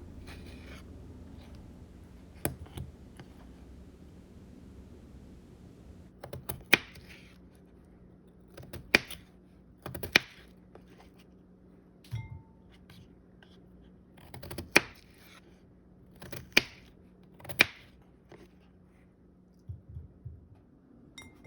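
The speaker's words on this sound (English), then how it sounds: "I'm just going to cut up 2 carrots and about 3 potatoes" Carrots and potatoes being cut with a knife on a board in a home kitchen, sharp isolated chopping knocks spaced a few seconds apart over a low steady hum, with faint quiet voice in places.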